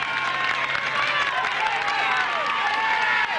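Sustained applause and cheering from a roadside crowd at a 1991 Tour de France team time trial stage in Chassieu as the yellow jersey team arrives, steady and dense, with a voice talking over it.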